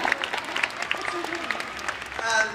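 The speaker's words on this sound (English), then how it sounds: "You can clap for Sailor Moon, come on." Fans clapping for Sailor Moon at an anime convention panel, scattered applause with some cheering mixed in, under and around talking voices, swelling slightly toward the end.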